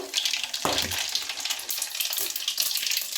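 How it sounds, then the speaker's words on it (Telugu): Mustard seeds and dried red chillies splutter in hot oil, a dense continuous crackling sizzle with a brief louder burst near the start, heard up close and alone. "చూడండి ఆయిల్ చిట్లు చూడండి సాసవులు ఆ వేడికి చిట్లిపోయాయి"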